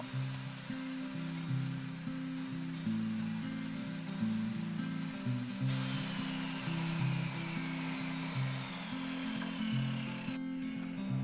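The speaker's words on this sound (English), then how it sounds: "I had to make a groove and tongue myself on my old table saw." An old table saw cuts a groove and tongue into a board for a wooden surfboard, its motor droning steadily with shifting tones as the blade works through the wood, fairly close and continuous.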